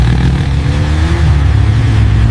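A motorbike engine revs hard and loud close by, a continuous roaring drone with rising and falling pitch and no voices.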